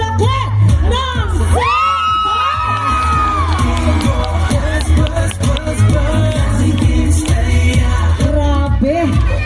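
Large crowd shouting, whooping and cheering with loud, overlapping yells and sharp claps, close and energetic throughout, with a few high sustained shouts standing out.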